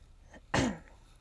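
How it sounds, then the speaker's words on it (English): A single short, throaty cough, soft and close, standing alone in quiet room tone. "That was probably a lot, that cough."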